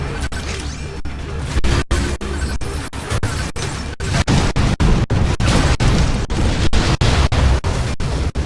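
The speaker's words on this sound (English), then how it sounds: "Sam, I'm authorizing missile use!" Missile explosions and heavy impacts fire rapidly in the Metroid Other M video game, with loud repeated booms and crashes over dense battle noise and sharp cuts between blasts.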